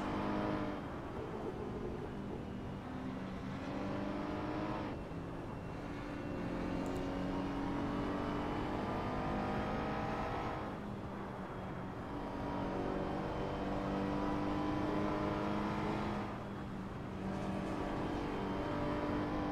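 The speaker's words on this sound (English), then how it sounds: "Let's go on board with Yassine Ismail in the Arcor Racing Ferrari, former race leader." Onboard engine of a Ferrari GT race car at Mugello in a sim racing game, loud and continuous, rising in pitch under acceleration and dropping sharply on downshifts several times, with no talk.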